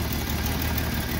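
A Jeep engine idles roughly with a steady low rumble and an uneven, slightly knocking pulse, close by and alone.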